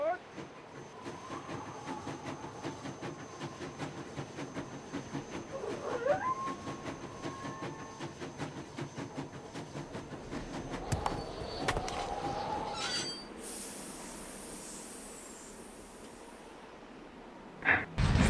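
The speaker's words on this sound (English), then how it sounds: "Sounds like the train's leaving." A train pulls out of the station in Nancy Drew: Last Train to Blue Moon Canyon, a long rumbling, rattling wash with a rising screech, fading away near the end to quieter background.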